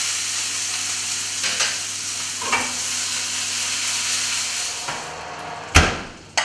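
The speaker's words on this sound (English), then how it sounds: "I just like that sizzling sound" Whiting fillets sizzle steadily in a hot frying pan, a continuous close hiss with a few brief clinks and scrapes of a utensil near the end; no one speaks.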